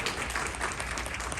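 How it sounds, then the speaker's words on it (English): A community event audience at Baylor University applauds to welcome a speaker, a dense, steady wash of clapping filling the whole short stretch at moderate volume. "Go ahead, clap."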